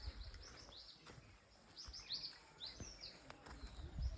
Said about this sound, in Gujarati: મસ્ત પક્ષી બોલે અવાજ આવે બધો